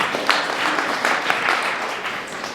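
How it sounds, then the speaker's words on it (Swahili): Applause from a teenage seminar audience, a short burst of many hands clapping in a steady dense patter, moderately close and filling the room throughout. "Hadi tupige makofi."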